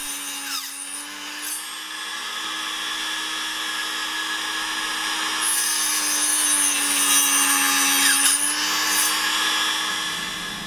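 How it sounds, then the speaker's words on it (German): Small power saw cutting excess buffalo horn off eyeglass temples: a continuous high-pitched whining hum that swells slightly louder midway as the blade bites into the horn, with no talk. "Im 9. Schritt sägt Thorsten das überschüssige Horn von den Bügeln ab."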